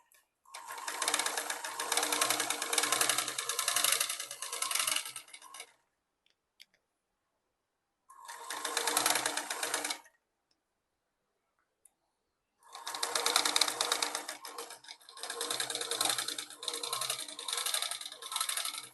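A sewing machine stitches crepe fabric for a baby's elastic frock in three runs, steady and close, with short pauses between them.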